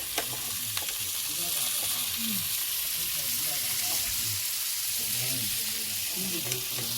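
Pork belly sizzling on a grill over oak firewood during its second grilling, a steady loud crackling hiss with spitting fat pops throughout, and a faint voice murmuring underneath.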